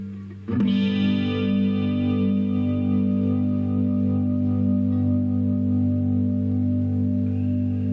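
An electric guitar played through effects on its neck pickup, with one strummed chord striking near the start and then ringing out in a long, sustained, distorted chorus wash that stays loud and close, with no talking.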